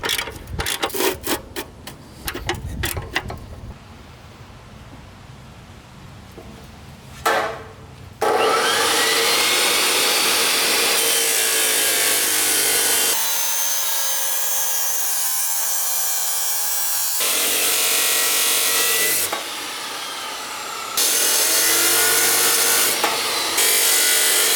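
A chop saw cutting scrap metal starts with scattered clanks and knocks, then settles into a loud, continuous abrasive grinding roar that dips and surges between cuts.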